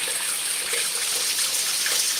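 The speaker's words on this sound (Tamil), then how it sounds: "நல்லா அடித்து ஊற்றிட்டுருக்கு தண்ணி சவுண்டு கேட்குதுங்களா பாருங்கள்" Strong water gushing on a farm in Sulur, Coimbatore district, a steady, loud, broadband rush of flowing water that continues without a break.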